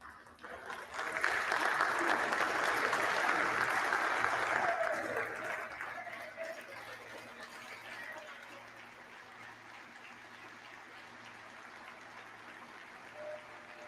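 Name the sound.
standing ovation applause in the House chamber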